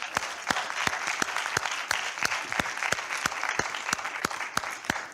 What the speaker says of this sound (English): since y'all clapping, why don't you just start clapping for yourself?